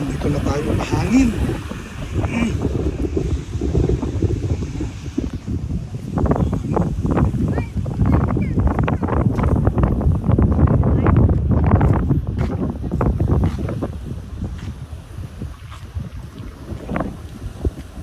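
Strong seaside wind gusts across the microphone at Poro Point Boardwalk in San Fernando City, La Union, a loud rumbling roar that swells and eases throughout.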